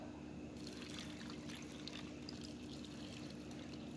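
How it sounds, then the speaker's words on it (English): Water pours in a steady, close trickling stream, continuous and fairly quiet, with no voices. "add some water."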